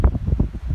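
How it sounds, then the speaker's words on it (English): Wind blowing outdoors, heard as brief, loud low rumbling gusts buffeting the microphone in quick irregular bursts. "It's gonna get really windy in a second."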